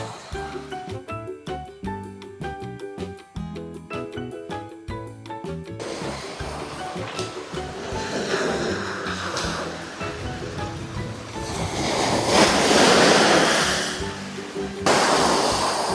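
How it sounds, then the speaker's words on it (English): Ocean waves roll in at an Aruba beach, a broad rushing wash that builds louder and surges in the second half, after a stretch at the start where music plays over the surf. "the waves are a little bigger there"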